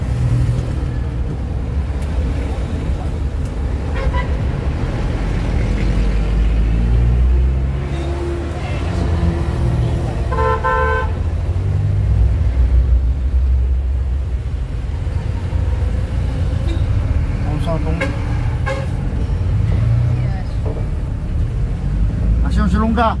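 Road traffic with buses in San Mateo rumbles continuously and fairly loud, engines droning and passing by, while people talk over it throughout.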